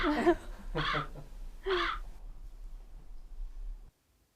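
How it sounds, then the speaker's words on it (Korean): Three harsh crow caws in quick succession, loud and close, played as a sound effect during a Korean science show, followed by a low steady hum that cuts out abruptly. "까마귀가 날아갈게."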